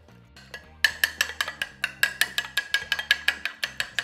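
Two large eggs are whisked in a bowl, a fork or whisk tapping the sides in a quick, steady clinking rhythm that starts faintly and then grows close and regular, with no voices.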